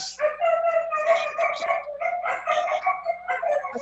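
Several dogs bark and yelp continuously, loud and close, with overlapping high, excited barks and some whiny yips that suggest a restless dog eager to go out for a walk.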